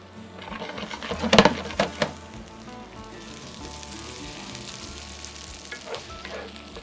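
Onion frying in a pan with crushed garlic, a steady close sizzle broken early by a few sharp clatters and scrapes of stirring, then settling into even crackling, with no voices.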